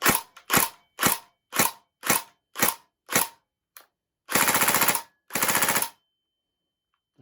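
Tokyo Marui SCAR L airsoft rifle firing close by: eight single shots, each a sharp mechanical clack, then two rapid full-auto bursts of about a second each, with clean silence between.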